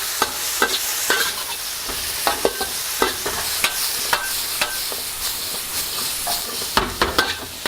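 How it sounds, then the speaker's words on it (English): Peas, carrot and ginger stir-frying in a hot wok for special fried rice, a steady bright sizzle broken by repeated clattering strokes of a spatula scraping and tossing the vegetables, close and fairly loud with no talking. "In goes the peas, our carrot, our ginger goes in, and we're going to stir fry this for a couple of minutes."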